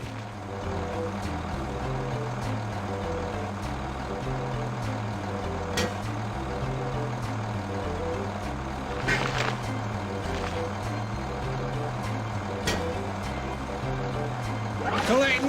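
Lorry engine idling steadily in a Thomas and Friends video game, with repeated electronic reversing beeps over a looping musical background and brief air-brake hisses; voices talk in between.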